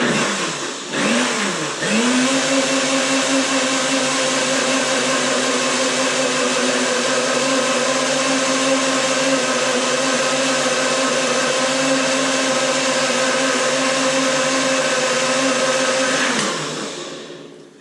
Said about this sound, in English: we're just gonna blend it either in a blender, NutriBullet, whatever you have at home